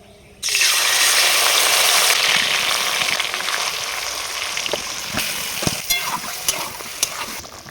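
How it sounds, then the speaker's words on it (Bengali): Spiced, marinated chicken hits hot oil with a sudden loud burst of hissing sizzle that eases into steady frying. Spatula clinks and scrapes sound near the end, and no one speaks. "এবার দিয়ে দেব মশলা মাখানো চিকেনটা। তো একসঙ্গে দিলে তেল ছিটাবে"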